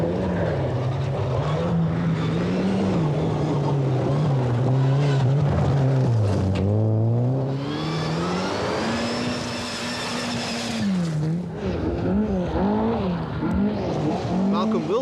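A Mitsubishi rally car tears along a special stage of the 1988 Scottish Rally, its engine note rising and falling steadily through gear changes as it drives hard, loud and close, with a commentator's voice running over it.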